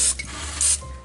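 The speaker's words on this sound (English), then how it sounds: "I just take some cooking spray and spray along the sides of the bowl just so that it doesn't stick" Cooking spray hisses from a can onto the sides of a bowl in two short bursts, one at the start and another a moment later, close and clear with no voices.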